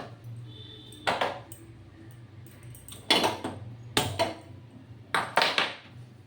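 A metal kadai set down and shifted on a kitchen stove, with a few scattered clanks and scrapes at close range during Bengali sandesh cooking.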